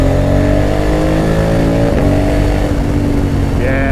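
A 2020 Honda Africa Twin 1100 adventure motorcycle accelerating hard, a loud close engine roar whose pitch climbs steadily, dips briefly as a gear changes, then climbs again, with wind rush throughout.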